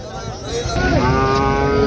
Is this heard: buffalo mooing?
yes